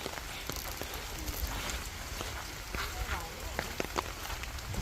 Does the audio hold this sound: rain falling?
yes